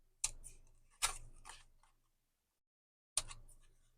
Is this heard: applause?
no